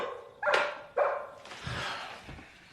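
Two sharp, loud dog barks come in quick succession, followed by softer rustling and muffled low sounds.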